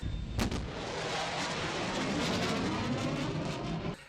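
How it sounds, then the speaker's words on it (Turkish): A sharp, powerful sonic boom from a supersonic aircraft cracks out, then a long, loud rumbling roar rolls on for several seconds before cutting off. "uçaklar ses hızını geçtikleri zaman ortaya çıkan sonic boom"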